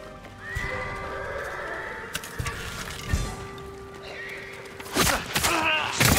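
A horse in the video game Ghost of Tsushima neighs, with a drawn-out whinny near the start and a louder burst toward the end, over faint ambient sound and a few hoof thuds.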